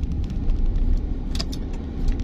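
A car driving along a road, heard from inside as a steady engine and road rumble with light rattles throughout and no talking.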